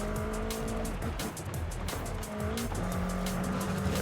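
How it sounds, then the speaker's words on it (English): Ferrari tires squeal and skid in Forza Horizon 5 over a loud, revving race-car engine, the tire screech rising in pitch through a drift, close and without speech. "Yeah, a bit too much of a skid there, but hey, we'll take a few drift points"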